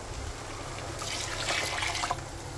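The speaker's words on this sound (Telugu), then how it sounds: "ఇప్పుడు ఇందులో వాటర్ యాడ్ చేసుకుందాం." Water being poured into frying tomato rice in a pan, heard as a soft rushing splash that swells in the middle and then fades over a low background hiss. No one speaks.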